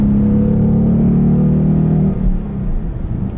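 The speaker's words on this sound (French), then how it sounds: "elle fait toujours ce bruit délicieux, vraiment ce bruit de muscle car" A Ford Mustang Bullitt V8 with its sport exhaust rumbles loudly and steadily at close range, a deep, throbbing muscle-car note that holds for about two seconds before easing into a rougher, lower idle burble.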